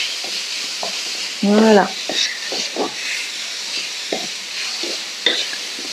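Carrots stir-frying in coconut fat in a hot wok give a steady sizzle and hiss, broken by scraping stirs, while a voice speaks briefly over the cooking.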